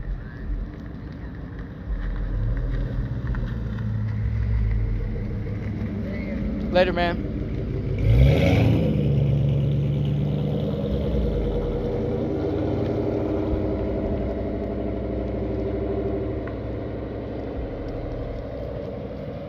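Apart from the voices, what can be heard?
loud car engine driving off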